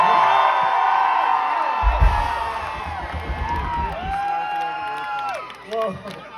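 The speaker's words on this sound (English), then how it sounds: "We get everybody screaming like that." Concert crowd at a show screams and whoops loudly, a dense wall of overlapping cheers with rising and falling yells and a few shouted voices on top.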